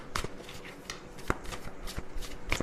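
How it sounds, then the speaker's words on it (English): Large tarot cards are shuffled by hand, giving a run of quick papery riffles and slaps in an uneven rhythm, close and fairly loud, with no talking. "These cards are big, so I have to shuffle them this way."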